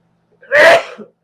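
One sharp, close sneeze bursts out of silence, a short breathy explosion followed by a faint after-sound, in a quiet room.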